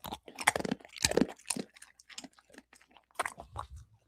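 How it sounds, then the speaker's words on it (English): A dog crunches on a crunchy chicken breast chip held close to the mic, crisp bites and chews coming in quick bursts with short pauses between them. "That was Dave dog chewing the chip."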